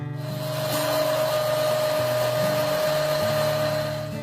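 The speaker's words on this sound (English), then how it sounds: "The back of the handle is ground one final time, thinning the limb pad caps" A bow handle is ground on a profile sander, thinning the limb pad caps; a loud, steady motor whine with a humming tone runs unbroken and close, with slight shifts in pitch as the wood is worked.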